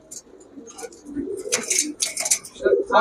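A male Afshan Grizzle pigeon coos in short repeated phrases, soft and close. Someone talks over and between the calls.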